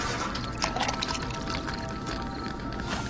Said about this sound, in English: So then we should be able to put water in it.